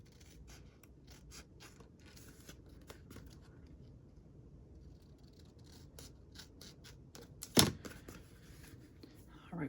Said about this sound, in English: I think I need to trim this just a little more though